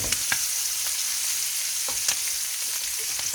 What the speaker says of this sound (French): Et on fait dorer